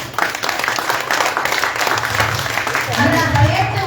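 Crowd applause at a Tamil pattimandram debate in Ayyampalayam, Musiri, a loud dense wash of clapping from a large outdoor audience with a voice speaking over it.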